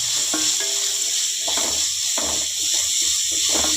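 Onion and capsicum fry in a pan with a steady, close hiss that runs the whole time, broken by a few soft clatters of stirring.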